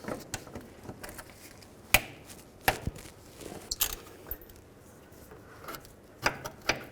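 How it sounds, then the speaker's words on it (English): A 14mm socket ratchet works a bracket bolt loose on a 1996–2004 Nissan Pathfinder sway bar link; sparse metallic clicks and clunks arrive irregularly, close but fairly quiet, with no speech. "so I'm going to take this bolt out here"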